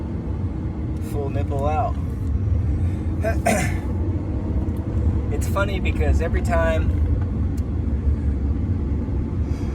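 Inside a moving truck, a constant low road rumble fills the cab while a person talks over it.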